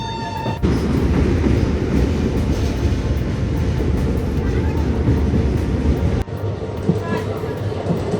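A nearly empty passenger train on the Katwa to Ahmadpur line runs fast, giving a loud, steady rumble and rattle of the carriage with rail clatter throughout, interrupted by a brief sharp jolt near the end.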